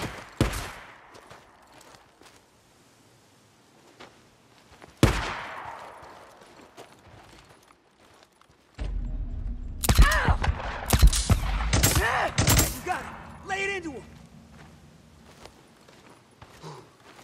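Sharp gunshots in Days Gone: a couple of isolated cracks early on, then a loud cluster of rapid shots amid heavy rumbling action, with quieter movement sounds between.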